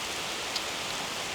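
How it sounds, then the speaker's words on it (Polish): Steady July rain falling outdoors, a dense even hiss of drops with no talk, holding constant throughout with a single brief louder patter near the middle. "No cóż, deszczyk."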